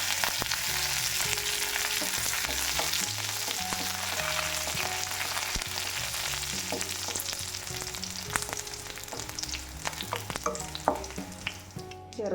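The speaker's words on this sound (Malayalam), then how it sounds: "ഇനി വറ്റൽമുളകും കറിവേപ്പിലയും ചേർത്ത് കൊടുക്കാം." Dried red chillies and curry leaves frying in hot oil for Kerala-style ginger pachadi, a loud, dense crackling sizzle that runs unbroken throughout, with scattered sharper pops toward the end.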